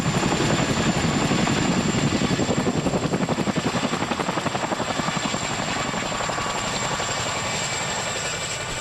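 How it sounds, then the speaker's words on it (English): A CH-47 Chinook twin-rotor helicopter flies on mountain operations in the Monashee Mountains, its steady, heavy rotor thump beating loud and continuous throughout, with a high engine whine layered over it. "featuring CH-47 Chinook helicopter mountain ops flying in the Monashee Mountains"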